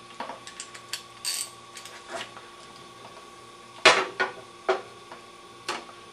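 A socket wrench, 5/8 or 3/4 size, ratchets on the drain bolt of a carburetor during cleaning and fuel pump repair, giving a few separate, sharp, close clicks and rasps spread over a quiet room.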